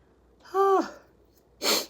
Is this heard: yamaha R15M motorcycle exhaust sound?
no